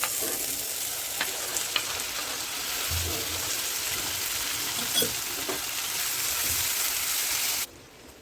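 Tomatoes hit a hot frying pan already holding ginger, garlic and green chilli paste, giving a steady, close broadband sizzle with a few soft clinks, running evenly until it cuts off near the end.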